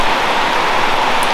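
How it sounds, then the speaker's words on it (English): Steady, loud rainfall pattering densely on surfaces outdoors, an even hiss of drops with no voices. "And it's raining, which is going to make some people very happy"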